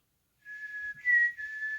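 A voice imitates an eerie whistled tune once heard inside a school, a clear, steady whistle starting after a brief silence, rising slightly in pitch midway and then settling back, close and alone.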